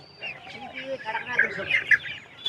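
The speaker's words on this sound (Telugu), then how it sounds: "ఇది గిరిరాజ కోళ్ళు చూడండి ఫ్రెండ్స్ ఎంత యాక్టివ్గా ఉన్నాయి ఇవి" Giriraja chickens at a market cluck and squawk actively at close range, with high chirping calls rising over the bustle, while a person talks over them.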